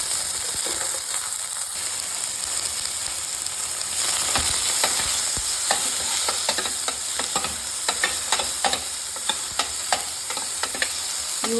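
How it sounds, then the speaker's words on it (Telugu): Onions, green chillies and tomatoes fry in a pan with oil, a steady close sizzle punctuated by repeated scraping stirs of a spatula, continuous and without talk. "ఇప్పుడు ఉల్లిపాయలు, పచ్చిమిరకాయలు, టమాటాలు వేసేసి వేయించేసుకున్నామండి"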